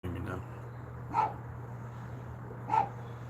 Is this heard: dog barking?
yes